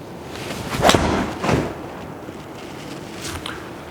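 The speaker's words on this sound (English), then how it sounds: "pretty good strike there with the iron" A golf 7 iron strikes the ball during a lesson swing, giving a brief swoosh and a close, solid thud near the one-second mark, followed by a second softer impact and then quiet outdoor air.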